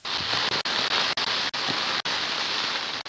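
Heavy rain pours down during a storm, a dense, continuous hiss of rainfall that is loud and steady, broken only by a few brief cuts.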